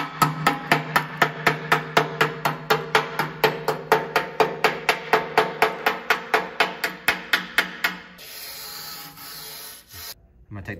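A hammer chips welding slag off a fresh metal weld in a long, regular series of sharp, close strikes with some scraping, followed by a quieter stretch of shuffling handling noise.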